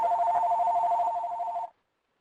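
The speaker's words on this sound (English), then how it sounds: "could someone mute their phone? We have a phone ringing in." A telephone rings with a steady electronic warble for about a second and a half, then stops abruptly, heard alone and fairly loud during a meeting.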